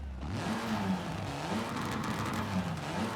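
A Mitsubishi Evo time attack car with pops and bangs in Forza Horizon 5 revs hard, its loud, close engine note surging and falling in a steady wavering drone with no talking.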